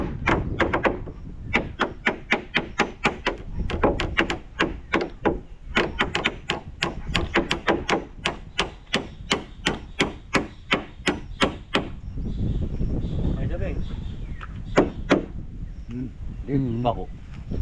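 Repeated sharp hammer blows on wood, fairly close, in a steady rapid rhythm that later turns sparser, while fitting a nipa hut, with voices talking in the background.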